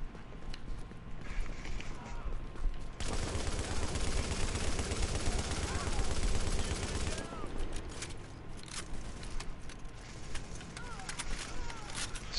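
Rapid bursts of gunfire from The Division crackle and rattle densely for several seconds in the middle of a firefight, loud and continuous, then thin out to scattered shots under a noisy game backdrop with voices.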